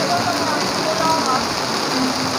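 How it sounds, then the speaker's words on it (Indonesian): Heavy rain pours down at the Universal Studios Singapore theme park, a steady, dense hiss of downpour that fills the whole stretch without letup. "baru main satu wahana udah hujan deras turunnya"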